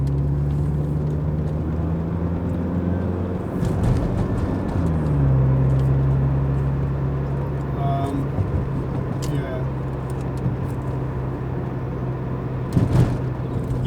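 A Saab 9000 Turbo drives over a rough, bumpy road, a steady engine drone with thumps and rattles from the suspension and cabin, pitch shifting partway through, heard from inside the car.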